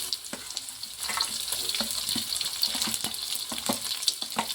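Chopped onion added to green chillies frying in a pan, giving a bright crackling sizzle with repeated scraping stirs and clinks throughout; no talking.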